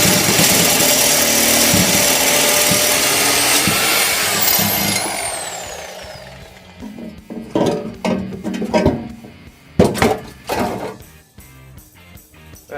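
Power tool cutting out an old exhaust pipe on a VE Valiant, a loud continuous grinding-saw whine for about five seconds that dies away, followed by scattered clanks and knocks of metal being handled nearby.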